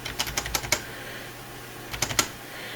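Keys on a computer keyboard are pressed in two quick clusters, a run of about six sharp clicks followed after a pause by three more, close and distinct over a faint hum.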